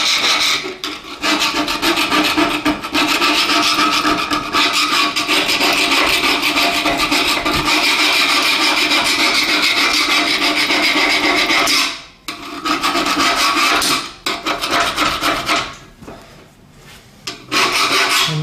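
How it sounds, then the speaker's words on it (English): A flathead screwdriver scrapes old rope gasket residue off a stove door in a steady, harsh rasping that runs close and loud for a long stretch, then breaks into a few shorter scrapes near the end. "Just want to do the best that we can with the flathead screwdriver here."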